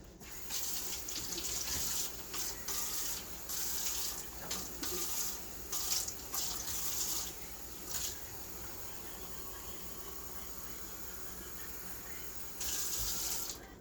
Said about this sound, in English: And then you're going to fill this all the way up with water.